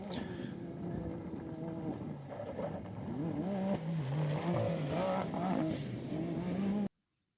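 A Can-Am off-road race vehicle at NORRA Baja qualifying in Ensenada roars steadily with a rising, revving engine tone and tire noise, while a commentator talks over it.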